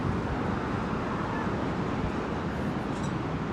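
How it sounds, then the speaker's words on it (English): Strong wind buffets steadily and loudly in Lower Manhattan, New York City, a continuous gusty roar with no pauses. "you can see how windy it's getting up here"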